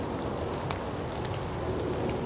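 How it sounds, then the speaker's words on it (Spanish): Light rain falls steadily in the morning, a soft continuous patter and hiss with a few brighter drop ticks, heard alone at an even low level. "Así está lloviendo un poco"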